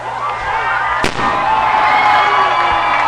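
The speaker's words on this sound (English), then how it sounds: "And warning fireworks here in Somerset, Kentucky tonight." Fireworks go off at a night high school football game between Pulaski County and Rockcastle in Somerset, Kentucky, with one sharp loud burst amid steady crowd noise and a fainter pop near the end.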